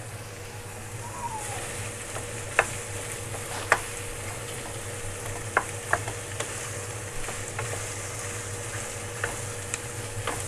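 Minced meat frying in a pan, a steady crackling sizzle with occasional sharp ticks of a spatula against the pan, moderately close.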